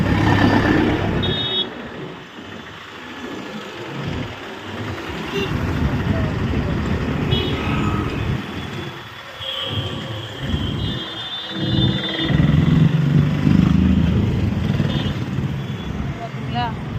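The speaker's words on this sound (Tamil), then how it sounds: "பார்த்தீங்களா எவ்வளோ டிராஃபிக்காக இருக்குண்டு" Traffic moves through a busy city crossing while a pedestrian waits for the signal. Engines rumble continuously, with occasional higher vehicle tones, while a person speaks over the noise for much of the time.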